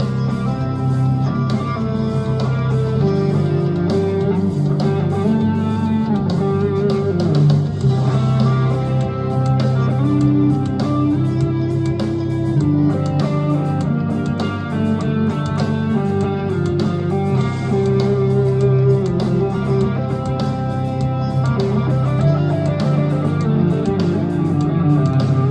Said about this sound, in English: So this is the sound of Mixolydian.